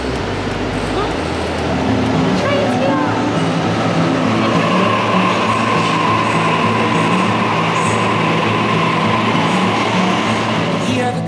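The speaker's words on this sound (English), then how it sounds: "Train's here. Hear the commotion" A train pulls into a station with a steady rumble and rail noise that builds after the first second and holds loud throughout, while a busy crowd murmurs underneath.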